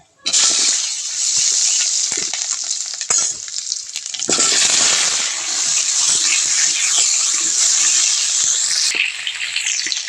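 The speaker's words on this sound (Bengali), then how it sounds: "আলুটা আমি তেলের মধ্যে দিয়ে দেব" Potatoes fry in hot mustard oil in a wok, giving a loud, steady sizzle and crackle that runs nearly the whole time, with a few stirring scrapes and a brief dip partway through.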